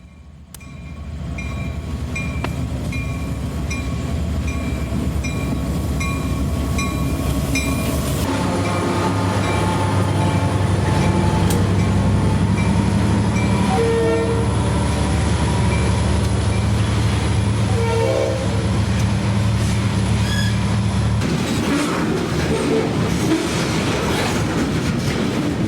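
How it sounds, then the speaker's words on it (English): A CSX freight train crawls down a street, its diesel engine rumbling loud and close with wheel clatter, and the horn sounds long and steadily through the middle stretch. "We see train R313 on another day as it gingerly crawls down the street"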